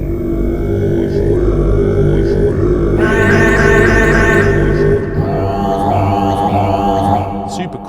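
A Tuvan male throat-singing drone sample plays in an electronic music production, a loud sustained guttural tone carrying shifting whistling overtones that change character twice.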